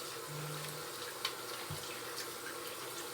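Tap water runs steadily into a sink during a surgical hand rinse, a continuous broadband splash with a brief knock partway through and no talking.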